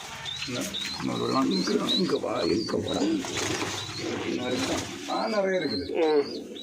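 Pigeons in a loft of high-flying birds of Palakkad lineage, with repeated cooing and wing flutters throughout, close and busy, while someone talks over them.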